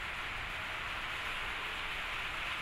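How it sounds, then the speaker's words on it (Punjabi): Steady rain falls outside at night as a soft, even hiss of drops on surfaces, faint and unbroken throughout with no talking. "ਮੀਂਹ ਆ ਗਿਆ ਜੀ ਅੱਜ ਫਿਰ ਆਪਣੇ"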